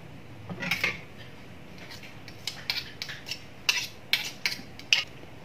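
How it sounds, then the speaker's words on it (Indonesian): Garlic cloves being squeezed and pressed in a home kitchen, heard as a series of sharp, close clicks and crunchy taps arriving in irregular bursts, with quiet gaps between them. "Terus lajenge anak embok tira arep mencet-mencet bawang putih."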